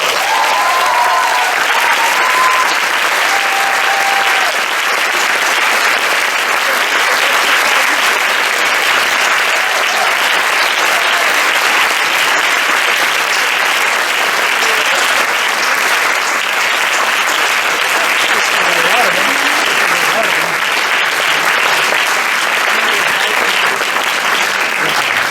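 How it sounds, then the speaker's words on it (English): A large audience at a debate tournament final gives the jury a long, sustained round of applause, a dense unbroken wash of clapping filling the hall, loud and steady throughout. "Please give them a wonderful round of applause."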